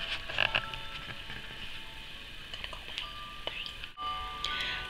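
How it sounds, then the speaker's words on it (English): Soft lullaby music plays from a tablet in a room, a faint, chiming melody in the background with small handling noises and rustles over it. "on my tablet playing is 4 hours of lullabies for baby."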